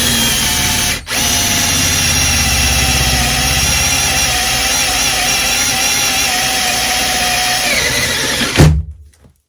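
A TOPSHAK 20V cordless drill on speed 2 boring a hole with a 9 mm bit, a loud, close, steady motor whine with a brief dip early on, running for several seconds before cutting off abruptly.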